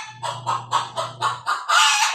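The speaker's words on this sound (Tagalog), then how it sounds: "Maraming manok. Ayan." Chickens kept at a house in the city cluck in a rapid, repeated series of loud bursts close by, with a steady low hum underneath and a sharper crowing-like call at the end.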